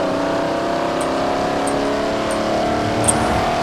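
A Jaguar in Forza Horizon 4 drives with a steady, sustained engine drone that holds a constant note and shifts slightly in pitch, loud and close, with faint ticking clicks over it and no talk.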